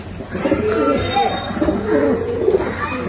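An Allahabadi pigeon coos in soft, rolling phrases, several low burbling calls repeated close by over a quiet background.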